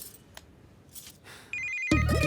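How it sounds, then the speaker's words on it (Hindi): A phone rings as a call is placed: after quiet background shuffling, a loud, close electronic ringtone cuts in abruptly near the end and keeps sounding. "लो कर लो फोन गुड्डू को और इनसे भी बात करवा लो।"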